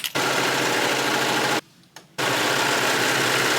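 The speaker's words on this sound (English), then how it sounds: "I'm just going to unclip a few of these and just serge this band." A serger stitching across a denim dress waistband runs in a loud, steady close motor drone, stops briefly for about half a second, then resumes at the same even pace.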